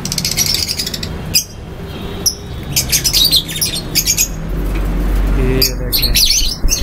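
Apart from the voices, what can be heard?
pair of black masked lovebirds calling in a cage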